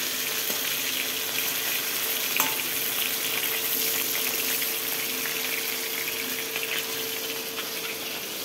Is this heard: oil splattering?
yes